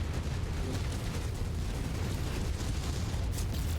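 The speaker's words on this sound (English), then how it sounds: "Target acquired. Incoming missile." Missiles strike with a dense, roaring rumble of explosions in the MechWarrior video game, loud and continuous with deep booming bursts throughout.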